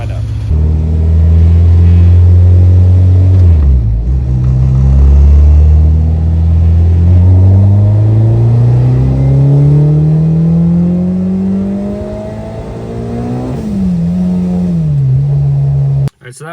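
K-swapped Mini Cooper with a Honda engine revs during a tuning run, its note climbing steadily and loudly before dipping, rising again and dropping off abruptly at the end.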